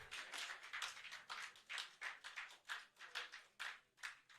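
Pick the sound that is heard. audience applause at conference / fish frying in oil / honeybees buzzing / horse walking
audience applause at conference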